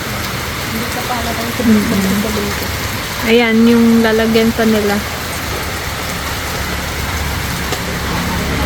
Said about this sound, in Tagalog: Kaya lang, umuulan na naman.